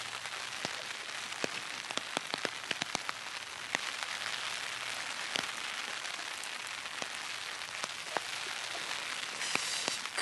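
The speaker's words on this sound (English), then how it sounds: "Now the raindrops song on the umbrella." Raindrops patter steadily on an umbrella during an outdoor rain walk, a dense continuous hiss broken by many sharp individual drop taps, close and fairly quiet throughout.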